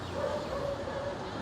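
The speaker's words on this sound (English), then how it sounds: "I am mindful that there's a pack of wild dogs right in front of me," A pack of wild dogs on a street in Khon Kaen, Thailand, barking and yipping, steady and fairly close throughout, with traffic-like background noise and no distinct talk.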